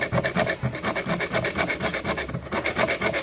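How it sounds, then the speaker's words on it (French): A hand scraper rasps repeatedly across a wooden window frame during renovation, steady back-and-forth strokes at close range, loud and continuous with no talking. "plier légèrement le racloir afin de privilégier cette zone-ci et vraiment gratter"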